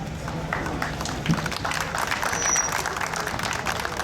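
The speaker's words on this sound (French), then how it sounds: "Vous pouvez applaudir beaucoup plus fort, bien sûr, les différents participants à ce concours d'élégance" A crowd at a classic car elegance contest at a vintage car festival in Dourdan gives sustained, moderately distant applause to the participants, a dense and even patter throughout.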